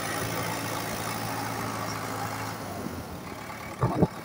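A farm tractor idles at rest after ploughing a field, a low, steady engine drone heard at moderate distance, with a couple of brief knocks near the end.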